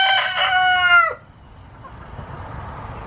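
A rooster crows loudly and close by for about a second, then the crow cuts off into quiet background clucking and shuffling from a backyard flock of chickens.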